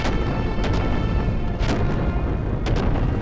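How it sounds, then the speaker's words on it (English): Explosions keep booming in the Xenogears video game, a dense rumbling barrage with several sharper blasts standing out against a loud continuous roar. "it could just be lag from all the explosions going on"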